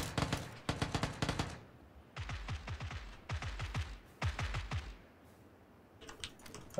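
Suppressed automatic gunfire close by in a video game, fired in several rapid, clattering bursts separated by short pauses, loud and crisp with no talk over it.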